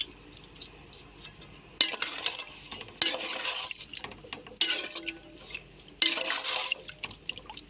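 Chicken biryani is stirred in a pot, giving quiet scraping and clattering strokes of a utensil against metal with wet, sloppy rice and liquid sounds, arriving in several bursts a couple of seconds apart.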